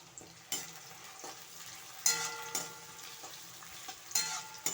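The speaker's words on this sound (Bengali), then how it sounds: "পেঁয়াজটা ভাজা হয়ে গেলে আমি বেরেস্তাটা তুলে নেব" Onions frying in oil for beresta, a continuous sizzle broken by several sharp stirring scrapes and clatters at irregular intervals, close and alone.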